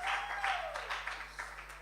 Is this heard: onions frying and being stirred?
no